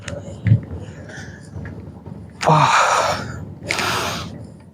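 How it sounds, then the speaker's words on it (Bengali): A person outdoors near a river ferry ghat draws a sharp, audible breath close to the microphone, then exhales in a long breathy rush, followed by a second breath, with faint background noise between. "সুবাহান আল্লাহ একটি নিঃশ্বাস নিলাম"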